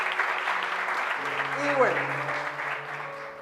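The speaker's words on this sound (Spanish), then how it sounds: "denle un fuerte aplauso a Dios por eso" Church congregation applauding during an Easter service, a broad crowd clapping beneath someone speaking, with a sustained tonal hum from the sound system.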